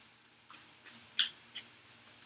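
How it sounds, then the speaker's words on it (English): A handful of soft, crisp tarot card riffles and taps, spaced irregularly, close and quiet against near silence. "A couple more shuffles."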